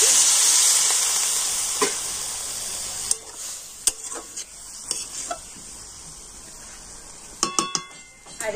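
Water poured into a pan of frying vegetables with turmeric, cooked as a leafy greens dish, bursts into a loud steamy sizzle that slowly fades, followed by scattered clinks and scrapes of a spoon stirring against the pan.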